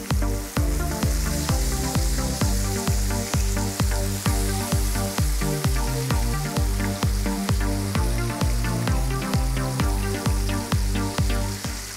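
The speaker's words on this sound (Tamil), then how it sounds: "இப்போ நம்ம ஃபிஷ் ஒரு பக்கம் நல்லா குக் ஆகிடுச்சு. இதை அப்படியே மறுபக்கம் திருப்பி விடுறேன்." Fish pan-grilling for a lemon butter sauce sizzles loudly and continuously after being flipped in the pan. The steady crackle runs under an even, rhythmic beat and no one speaks.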